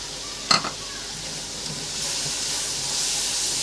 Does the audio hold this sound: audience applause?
no